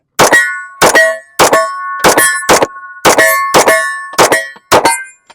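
A Colt El Senor 1911 pistol in .38 Super fires 115-grain rounds with an El Senor recoil spring fitted: nine sharp, loud shots in quick succession, each trailing a brief metallic ring.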